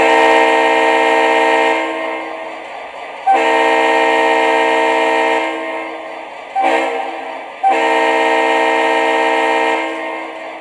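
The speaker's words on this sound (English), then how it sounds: "let's hear the horn" A model MTH Conrail locomotive horn sounds loud and close in three long chord blasts plus one short toot, each blast fading slightly as it holds.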